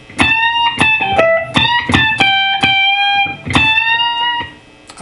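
An electric guitar plays a blues lick, with sharp picked notes, string bends and a quiet release, loud and close, with no talk, ending as the last note fades.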